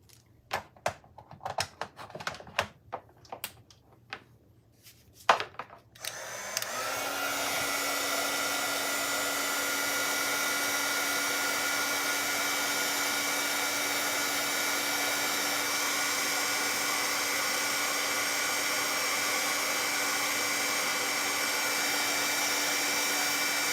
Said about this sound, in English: Let me get out my heat gun a second here to dry this.